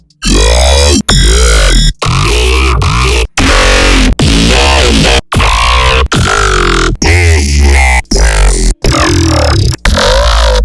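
Dubstep growl bass synth preset made in Serum 2, a loud string of about eleven short, aggressive, vowel-like wobbling growl notes separated by brief gaps, with no talking.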